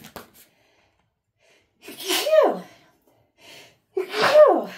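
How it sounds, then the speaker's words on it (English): Two sneezes a couple of seconds apart, each a sharp inhaled build-up bursting into a loud, close explosive release. "I'm about to sneeze, guys."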